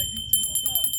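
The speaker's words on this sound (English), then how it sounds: "don't forget the notification bell" A notification bell sound effect rings as a quick run of bright, high chimes, about six evenly spaced pings over a low, steady background hum.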